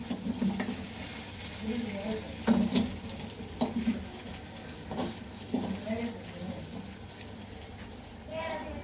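Mutton pieces for bati kebab stir-fried dry in a pan, with a steady soft sizzle and repeated scraping stirs, and a voice talking faintly over the cooking.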